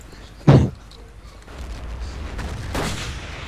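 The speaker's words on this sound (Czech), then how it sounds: "Martin už po mě střílí." Gunfire in the video game Battlefield 1942: one loud, sharp shot near the start, then a second, softer burst about two seconds later over steady background battle noise.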